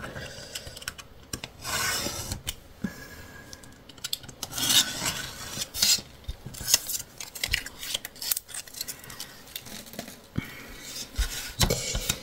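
Scissors cut through scrapbooking paper for a baby keepsake box in a run of close, crisp snips and rasping slices, with paper rustling and handling noise in between and no speech.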